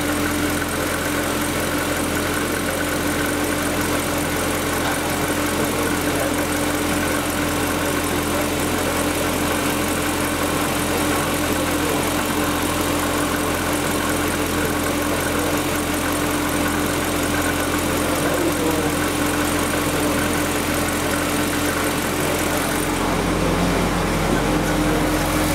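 A Corvette ZR1 engine fitted with a Pratt and Miller C6.RS intake, without the beehive, idles steadily and loudly with a constant low hum and rumble, and the tone shifts near the end.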